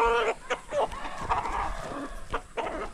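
Several hens cluck in a busy, irregular chorus close by, with a rooster's crow rising among them; no one speaks.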